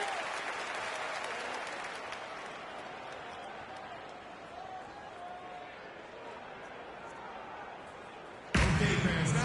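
Arena crowd cheering and applauding in a basketball video game: a steady, moderately loud wash of crowd noise that slowly fades, then jumps louder for the final second.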